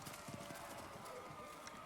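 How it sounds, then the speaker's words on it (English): A horse in the video game Thronebreaker: The Witcher Tales, at the start of a battle, with faint, continuous clip-clopping hoofbeats against a dense background wash. "spurred her horse. It neighed and reared"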